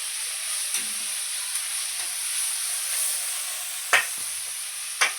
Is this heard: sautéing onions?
yes